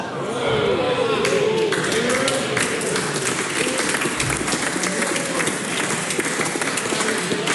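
Applause fills the NZ Parliament chamber, a dense, sustained clapping from many members that carries steadily throughout with voices mixed in.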